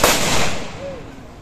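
A rifle volley fired for a state guard of honour at a freedom fighter's funeral in Trishal, Bangladesh, one loud outdoor crack at the start that rolls away into a fading echo.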